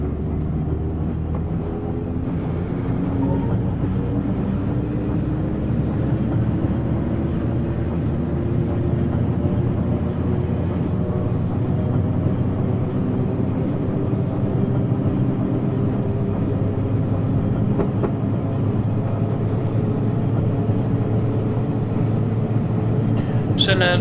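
A train in a video game rumbles along steadily with a low, droning engine hum that slowly builds, mostly alone with little else around it, on a Brighton to London Bridge parcels run.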